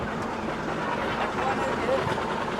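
A train rumbles past close by, a continuous heavy roar with faint rhythmic rattling and brief metallic squeals, voices faintly mixed in.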